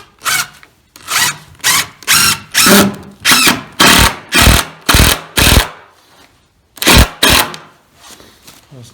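A power driver running screws into timber boards for a large timber frame door, a series of about a dozen loud close whirring bursts, each a second or less, in an even rhythm with a short pause before the last two.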